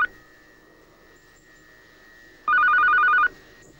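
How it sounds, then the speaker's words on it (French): A telephone rings once in a short electronic burst, loud and clear over a quiet room with a faint steady hum, in a kitchen setting where vegetables are cooking. "la température est bonne et le téléphone sonne."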